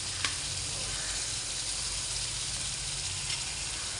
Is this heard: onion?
yes